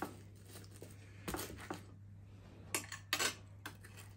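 Knife and fork scraping and clinking on a plate while cutting a pepperoni pizza; a few quiet, sparse metallic taps and scrapes over a low background hum.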